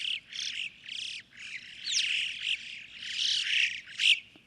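Alpine chough calls in a fast series of shrill, high chirps and squeals, some rising and sliding in pitch, loud and fairly close over faint background noise, no voices.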